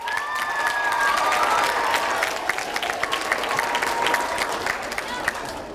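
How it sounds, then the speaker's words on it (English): An audience in a school gathering claps steadily for several seconds at moderate volume, the applause dense and even with faint voices mixed in. "Let's give her a big round of applause."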